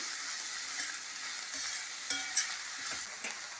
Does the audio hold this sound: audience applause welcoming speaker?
no